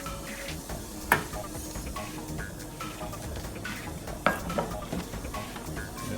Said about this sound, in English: Whisk that in, let that cook.